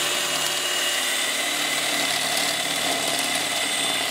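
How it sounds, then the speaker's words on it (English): A DeWalt DCH273 18V cordless SDS Plus rotary hammer whines steadily and loudly in drill-only mode, starting a hole continuously with no pauses and no voices. "I'm going to start on drill just to get the hole started."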